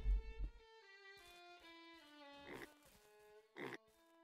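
A pig in the farming game Ranch Simulator grunts and squeals in a run of tonal, nasal calls, with louder bursts near the start and end, heard up close with no talking.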